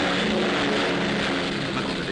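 A steady, droning airplane engine, apparently propeller-driven, hums on without a break in a 1978 Italian Bermuda Triangle film, fairly quiet and with no speech over it.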